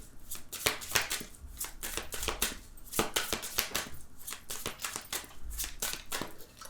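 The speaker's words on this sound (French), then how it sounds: "Alors, on va faire la coupe." Tarot cards are cut and handled, giving a quick run of crisp slaps and riffling snaps, irregular but steady, close up and alone.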